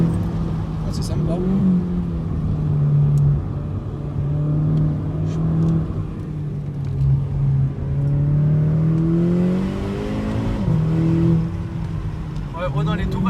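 Seat Ibiza Cupra with a 1.4 litre 180 hp engine revs from inside the car, a steady engine drone rising and falling through the rev range while people talk over it.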